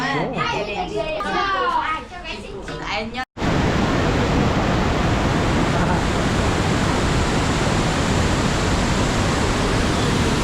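Children's voices chatter briefly, then a loud, steady broadband rush of a heavy-flowing waterfall in Sapa takes over and roars on continuously, close and unbroken.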